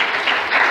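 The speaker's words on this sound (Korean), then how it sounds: "박수 한번 부탁드립니다." Brief burst of audience applause at a church mission conference gathering, a short even wash of clapping heard alone for under a second.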